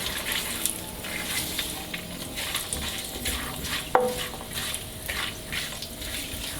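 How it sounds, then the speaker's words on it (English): Cashew nuts and peanuts toasting in a pan for corn flakes chivda, giving a soft steady sizzle with light stirring scrapes and one sharp clink near the middle, no voices. "Since we're using pre-roasted nuts, we just have to let them toast up a little bit."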